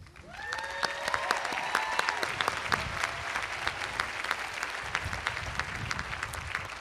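An audience at a college commencement ceremony applauds, a dense steady clapping that swells quickly and holds at an even level.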